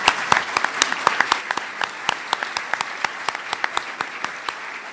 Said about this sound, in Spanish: Gracias y un aplauso para ellos.